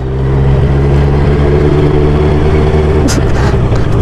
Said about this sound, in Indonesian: Jadi kayak suara, kayak suara moge.